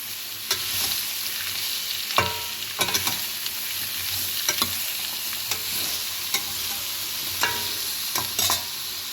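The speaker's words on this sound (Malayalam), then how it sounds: "നമുക്കതിനൊന്ന് ഇളക്കി കൊടുക്കാം." Pumpkin curry being stirred in a pan, with a soft continuous sizzle and scattered scraping clicks of the spoon against the pan at an uneven rhythm, close up and with no talking.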